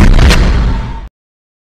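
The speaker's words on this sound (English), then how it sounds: "Do you see that rocket coming right towards us?" A rocket explosion in Garry's Mod hits as a loud, close, booming blast right at the start, rumbling on for about a second before cutting off abruptly to silence.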